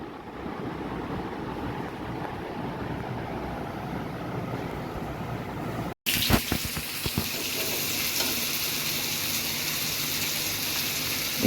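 Fish curry with vegetable stalks is stir-fried in a pan, giving a loud, steady sizzling hiss. A brief break comes midway, then sizzling resumes with scraping stir strokes, and no one talks.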